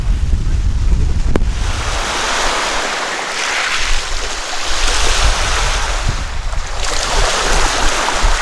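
Waves breaking and washing on a wide sandy Lake Superior beach, with steady wind buffeting the microphone; surf surges swell and recede continuously throughout, loud and close, with no one talking.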